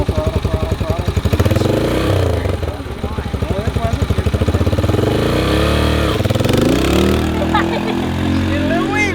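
A motorcycle engine revs repeatedly with the throttle, pulsing and rising in pitch up close, while people talk and shout over it.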